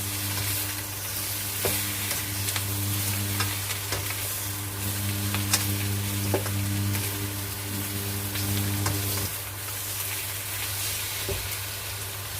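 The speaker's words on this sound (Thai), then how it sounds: "แล้วก็ผัดต่อนะคะ" Large tiger prawns stir-frying with garlic and mushrooms in a hot pan, a steady loud sizzle with occasional scrapes and clinks of the spatula, continuing without pause and with no talking.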